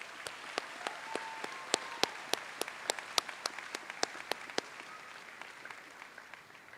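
Scattered, sparse applause at a graduation ceremony honoring class officers, individual sharp claps standing out against a faint hall background and thinning toward the end.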